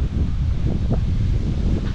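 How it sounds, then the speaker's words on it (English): Steady strong wind buffeting the microphone on a street walk past an orange tree, a continuous loud low roar and rustle with gusty swells, no voices. "Wind is to my back now. Wind is brutal."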